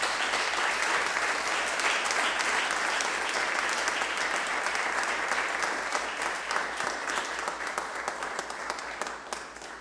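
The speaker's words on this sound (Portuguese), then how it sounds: "Por favor, dê um aplauso, Senhor." A church congregation at a Portuguese-language service claps together in dense, sustained applause that fills the space, then gradually thins and fades toward the end.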